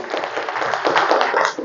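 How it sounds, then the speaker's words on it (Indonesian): A small group claps for Cindy, a brief burst of close, irregular hand claps lasting under two seconds. "Tepuk tangan untuk Cindy"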